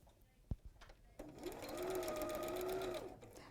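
A sewing machine starts up and runs in a steady, fast whirring stitch while piecing a log cabin quilt block, following a few soft handling clicks.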